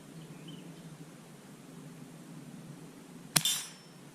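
A Winchester Model 67A rifle fires once at a small metal spinner target, giving a single sharp crack with a short ringing tail after a quiet stretch of background hiss.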